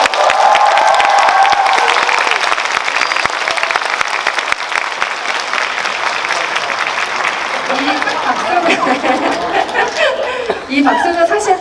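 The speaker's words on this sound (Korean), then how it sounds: "한국 관객들이 쳐주시는 박수이기 때문에 조금 남다른 박수일 것 같고요" Audience applause at a Korean cinema screening event for the film Parasite, honoring its Cannes Palme d'Or win; dense, sustained clapping fills the whole stretch, with crowd chatter and a few voices emerging toward the end.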